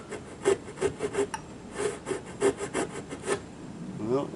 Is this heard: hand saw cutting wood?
yes